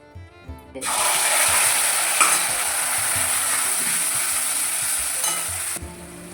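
Vegetables hit hot oil in a pan for a Khandeshi-style drumstick curry and burst into a loud, steady sizzle after a brief quiet start, close up, with a few stirring clinks and no talk.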